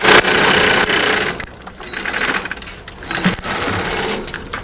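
A high-quality sewing machine stitching the upper fabric of a natural latex mattress, a loud close mechanical whir that runs in bursts with short pauses between, and no talking.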